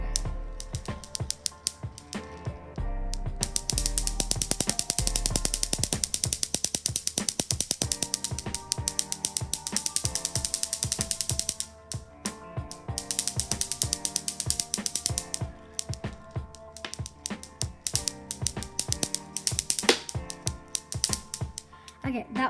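A handheld fidget toy ratchets in rapid runs of sharp, close clicks, with short pauses between bursts, steady and fairly quiet.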